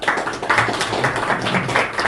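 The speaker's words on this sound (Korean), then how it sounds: "박수 쳐주시고요" Audience at a council meeting applauding, a steady patter of hand claps that continues at an even level for a couple of seconds, fairly close and without speech.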